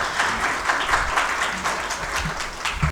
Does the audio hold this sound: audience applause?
yes